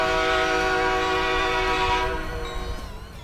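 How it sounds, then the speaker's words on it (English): A Leslie RS3K sandcast air horn on a train in the Rails Unlimited Classic game sounds one loud, sustained chord-like blast that fades away over the final second. "RS3K sandcast air horn built by Leslie"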